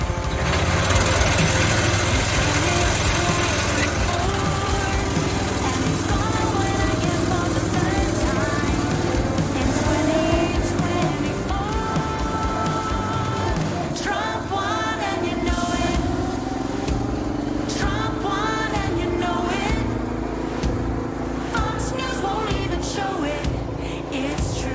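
A 1986 John Deere 216 riding mower drives up and down a driveway, its small engine droning loud and steady and close throughout, the pitch shifting as it moves.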